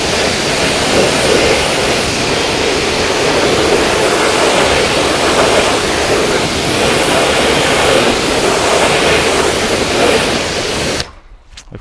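Water from a hose rinses the wheels of a Porsche GT3 RS, a loud continuous hissing spray holding steady, then cutting off abruptly near the end.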